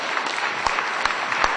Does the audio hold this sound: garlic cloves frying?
no